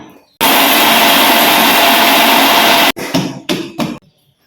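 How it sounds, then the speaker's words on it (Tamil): An electric mixer grinder whirs loudly and steadily as it grinds cardamom pods with sugar into powder, then stops and restarts in a few short pulses. "சர்க்கரை ஏலக்காய் கூட சர்க்கரையை சேர்த்து மிக்சியில் போட்டு அடிச்சு எடுத்து"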